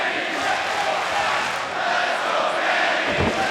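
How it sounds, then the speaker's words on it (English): Wrestling fans chant in unison throughout an arena during an AEW Revolution 2020 tag team match, a steady rhythmic roar of a large crowd filling the whole stretch. "Fans chanting, "Let's go, Kenny.""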